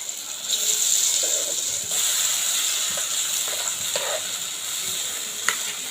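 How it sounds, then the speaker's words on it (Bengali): Ground lentil paste fries in white oil in a wok, giving a continuous hissing sizzle with a few soft stirring bumps, close and fairly loud, without voices. "এখানে কড়াইতে সাদা তেল দিয়েছি। তা প্রথমে এখানে আমি ডাল বাটাটা দিয়ে দেবো।"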